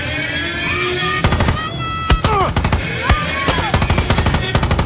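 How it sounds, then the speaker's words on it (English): Rapid automatic gunfire bursts and single shots in the video game Far Cry 6, loud and close, crackling in quick repeated volleys over a steady background hum. "Gunshot."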